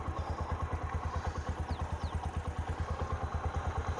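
A motorcycle on a cold morning, its engine a steady low rhythmic thrum close by and fairly loud, pulsing evenly with faint clatter and no voices.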